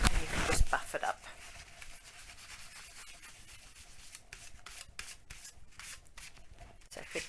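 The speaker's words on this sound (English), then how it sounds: "you take a bit more kitchen roll and you can just buff it up" Embossed pewter being buffed with kitchen roll, giving a steady soft rubbing and papery scrubbing close by, with a louder burst at the start and continuous friction strokes throughout.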